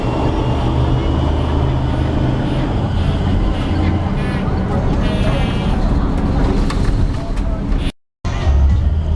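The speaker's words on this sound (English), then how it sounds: "A lot of traffic on that side of the street." Busy street traffic on First Avenue near Pike Place Market in Seattle rumbles steadily. Passing vehicles give a constant low roar with a faint street murmur, and the sound cuts out briefly near the end.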